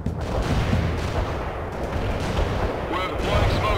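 A heavy artillery barrage rumbles in the real-time strategy game World in Conflict: Soviet Assault, with continuous deep booming and crashing impacts, loud and sustained, and radio-style voices speaking over it.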